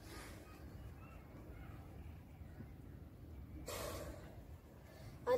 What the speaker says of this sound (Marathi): आपण एक जोराची श्वास घेऊ।